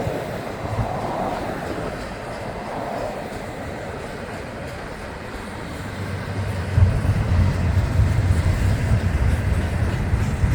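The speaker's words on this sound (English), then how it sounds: "So obviously, yeah, well, this is a giant train, it's carloads." A giant freight train of loaded carloads and tankers rolls past close by, a continuous heavy rumble with rail clatter that swells louder toward the end, with a voice faintly beneath.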